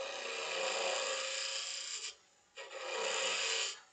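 Hissing, rasping cut of a woodturning scraper thinning the walls of a wooden finger pot spinning on a lathe, two steady close passes separated by a short pause, with no talking.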